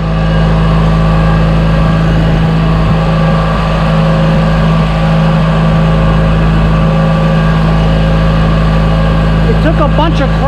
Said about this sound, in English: I think I'm gonna fire up the 616Z for the first time this year